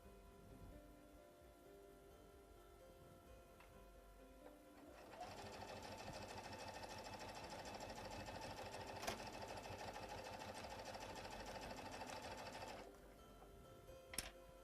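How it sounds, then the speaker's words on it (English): A sewing machine stitching binding onto a mini quilt: after a few quiet handling clicks, a steady rapid mechanical whir runs for about eight seconds, then stops, followed by a couple of sharp clicks. "I'm going to keep sewing"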